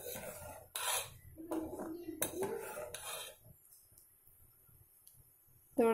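Metal spoon scraping and clinking against a pot while tomato dal with coriander leaves is mixed, a few close scrapes in the first three seconds and then a quiet stretch.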